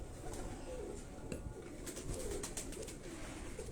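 Pigeons cooing on a rooftop loft, soft low coos repeating under a steady background hiss, with a few faint sharper sounds mixed in.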